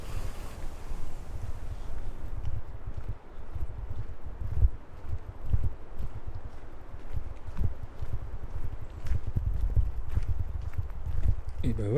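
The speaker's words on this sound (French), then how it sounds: "le petit vent là d'altitude là" Steady high-altitude mountain wind buffeting outdoors on Vitosha near Sofia, Bulgaria, a low rumbling roar with gusty surges throughout, with a voice talking over it.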